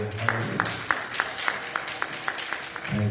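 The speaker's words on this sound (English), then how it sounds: "Come on, clap your hand, choir." A church choir claps hands in a steady rhythm, about ten sharp claps roughly every third of a second, set over warm music and low room noise during a worship service.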